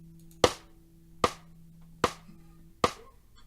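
Four evenly spaced sharp clicks of a metronome count-in for a guitar lesson, crisp and moderately quiet over a faint low sustained tone.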